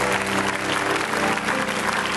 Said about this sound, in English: give a good hand clap to all these parents